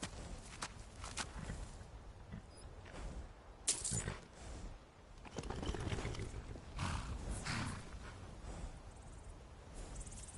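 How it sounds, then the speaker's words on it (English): A war horse in the video game Skyrim moves with clopping hooves and occasional snorts or whinnies, set against an outdoor game ambience. "a war horse"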